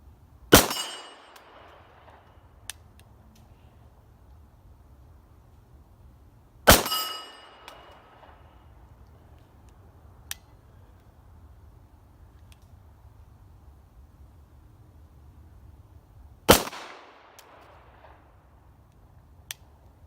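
Three sharp pistol shots from a Walther PPQ 4 TAC ring out several seconds apart, each with a metallic clang of steel targets being hit and a short ringing tail, with faint distant pops from other shooters in between.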